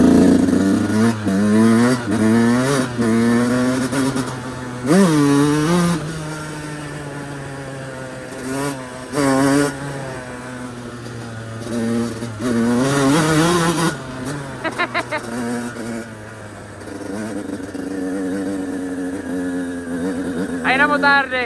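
Yamaha YZ 125 two-stroke motocross motorcycle engine running nearby, revving repeatedly in rising and falling bursts over a steady idle, loud and close, with a voice talking at times.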